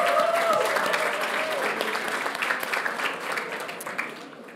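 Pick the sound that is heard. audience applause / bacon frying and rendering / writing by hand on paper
audience applause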